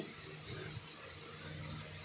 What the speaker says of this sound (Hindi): सबसे पहले इसके अंदर डालें जी पानी